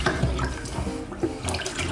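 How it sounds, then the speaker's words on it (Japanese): Water from washing a cloth mask is poured out into a sink, a short continuous splashing gush up close with no talking. "お水を捨てて"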